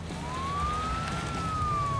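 A toy white ambulance siren, a single clear electronic tone slowly rising and then falling in a smooth sweep, fairly loud and close, over faint background noise.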